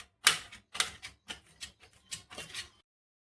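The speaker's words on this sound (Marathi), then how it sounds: "त्याच्यामुळे हे कापून घ्यायचे। असे बारीक पीस करायचे।" A knife chopping bitter gourd into small pieces, about seven crisp close taps at an uneven, quick rhythm, then silence.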